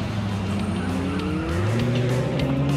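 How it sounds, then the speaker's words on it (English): Cartoon race car revving and accelerating with its back wheel spinning, engine tones climbing steadily in pitch with a whine of tire squeal over a continuous motor drone. "Kitty pressed the gas pedal, the back wheel started spinning, and the car rushed forward."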